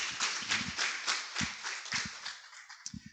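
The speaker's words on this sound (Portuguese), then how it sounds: "Dê um aplauso a Ele." A congregation in church claps, a fairly faint, loose scatter of hands with some distinct individual claps standing out, thinning toward the end.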